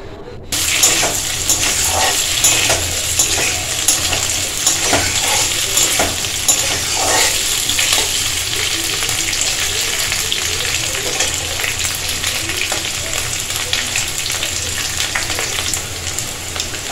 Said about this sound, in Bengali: এটা কড়াইতে এবার তেল দেব, দিয়ে এটাকে আলুটাকে ভেজে নেব একটু হালকা।